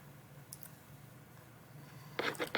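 Mouse clicks on a computer while making a copy of a document, a faint pair near the start and a tight cluster of sharp clicks toward the end over a low room hum.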